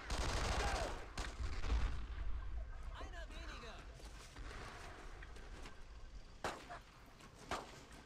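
Gunfire in the World War II video game Brothers in Arms: Road to Hill 30 on the original Xbox, with rumbling distant shots and a few sharper cracks, fairly quiet, with a voice speaking amid the firing.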